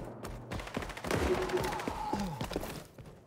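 Rapid AK rifle fire in the XDefiant shooter game, a quiet string of sharp shots in bursts, heard along with other game sounds and a bit of talk.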